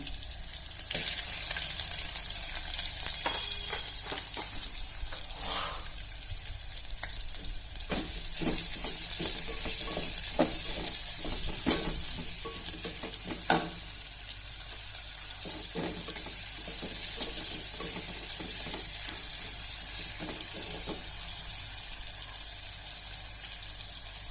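Onion fries in oil for veg pulao with a continuous close sizzle and intermittent scraping stir clicks, steady throughout with no talking.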